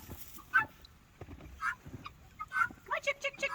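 Guinea fowl call outdoors in a snowy Missouri farmyard, giving scattered harsh, scratchy cries that grow busier toward the end, with a person calling to the birds in between.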